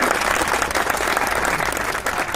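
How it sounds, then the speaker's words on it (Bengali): Audience applause at the opening ceremony of a sports event in Kurigram, a dense, steady burst of many hands clapping together, loud and close throughout. "একটা করতালি হয়ে যাক"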